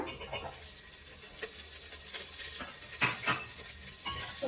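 Chopped onions go into a hot pan for bisi bele bath, with soft sizzling, stirring and the scrape of a utensil against the pan; quiet and close.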